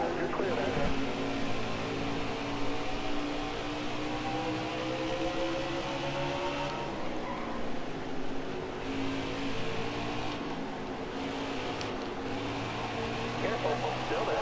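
Race cars in NASCAR Heat 5 roar around the Bristol short track, a continuous layered engine drone with shifting pitch under a commentator's steady talk.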